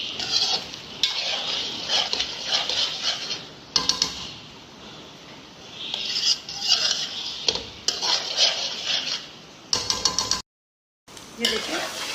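A spoon scrapes and clatters around a pan while a masala fried egg mixture is stirred, the rhythmic metallic strokes loud and close with a faint sizzle beneath and a brief pause near the end.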